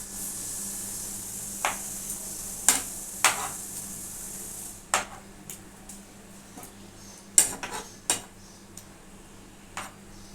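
A utensil turns Pabda fish over in a pan of oil and chilies, giving scattered sharp metallic clinks and scrapes every second or so over a soft steady sizzle, with no talking.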